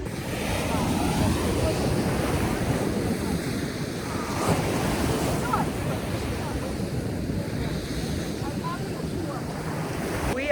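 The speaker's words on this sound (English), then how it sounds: "We are at the beach in Southampton right now." Steady roar of ocean surf at a beach in Southampton in the Hamptons, close and continuous, with heavy wind buffeting the microphone.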